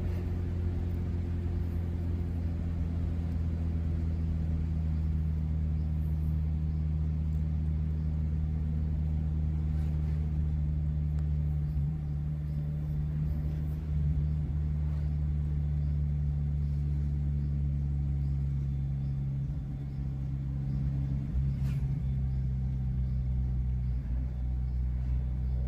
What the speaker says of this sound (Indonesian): kendaraan yang lewat atau yang berpapasan ya bisa kita hitung